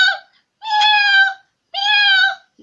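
A voice imitating a cat, two drawn-out, whiny meows spaced about a second apart, close and loud, with silence between them.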